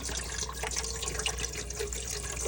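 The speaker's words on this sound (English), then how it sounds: "I add in a bottle and a half of water" Bottled water pours into an Aroma Professional Plus pot, a steady close splashing trickle of liquid running continuously without a break.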